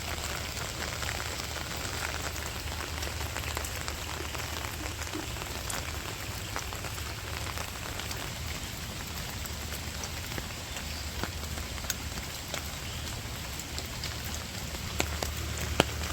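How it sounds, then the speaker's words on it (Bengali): Rain falls steadily on a surface outside a house, a dense continuous patter of drops at moderate level with scattered sharper drip ticks, heard alone with no talk. "কমছে এখন তো বৃষ্টি"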